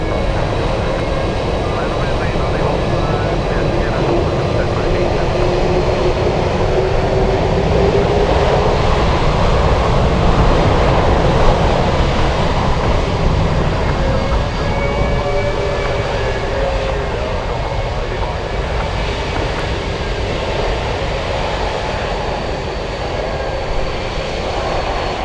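An airliner at Anchorage airport in gusty winds, its engines giving a steady broadband roar that holds for the whole stretch, mixed with wind noise, while a voice talks over it.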